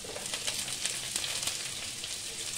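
Chopped onion, cauliflower and beans lightly frying in a pan for a chowmein dish, a steady close hiss of sizzling oil with small crackling pops throughout, no voices.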